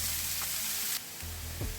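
Chopped radish drops into hot oil already popping with mustard seeds in a pan, giving a brief bright sizzle that dips, then returns with a stir, heard alone without talk.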